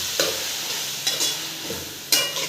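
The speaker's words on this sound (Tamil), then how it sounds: "போட்டுட்டு நல்லா வதக்கி விடுங்க" Coriander and mint leaves sautéing in a pan for Ambur chicken biryani, a low continuous sizzle with three brief stirring scrapes spaced about a second apart.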